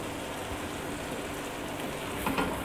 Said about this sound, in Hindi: इसको डालकर फिर हम इसको 1 से 2 मिनट के लिए भून लेंगे